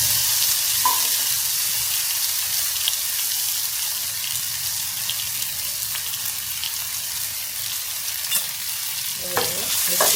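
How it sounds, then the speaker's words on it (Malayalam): Potatoes dropped into already-hot oil fry with a steady, dense sizzle that fills the whole stretch, with a few soft scrapes and taps of a utensil near the end; no one speaks. "ഇവിടെ കുറച്ച് ഓയിൽ ഓൾറെഡി ഒഴിച്ചിട്ടുണ്ട് അപ്പോൾ നമുക്ക് ഇതിലേക്ക് പൊട്ടാറ്റോ ഇട്ട് കൊടുക്കാം"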